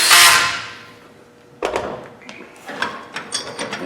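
Socket head cap screws are driven into an end cap on a manifold held in a vise, giving a close, loud metallic clatter followed by quick ratcheting clicks in short irregular bursts.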